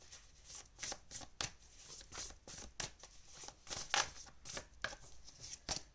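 A deck of tarot cards is shuffled by hand, a close run of crisp, papery riffles and slaps in quick irregular bursts, with no voice over it.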